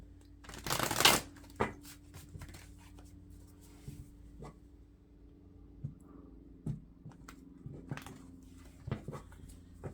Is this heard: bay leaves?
no